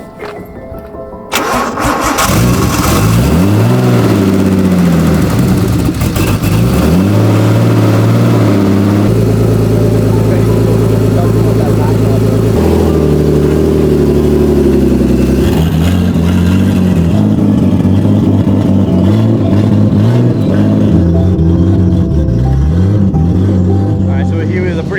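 A car engine cranks and fires up, then runs loud and close, idling with several revving surges that rise and fall, with a brief burst of voices under the engine noise.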